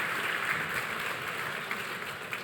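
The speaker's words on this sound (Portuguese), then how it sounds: "Gostaria de pedir uma salva de palmas para a nossa palestrante, doutora Damares Moura Kuo." An audience at a lecture event claps for the speaker being introduced, a soft, even patter of many hands that carries on quietly and steadily throughout.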